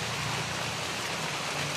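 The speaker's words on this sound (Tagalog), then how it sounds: "Malakas yung ulan" Heavy rain pours in a dense, continuous roaring hiss with steady patter, loud and unbroken throughout, and no one talking.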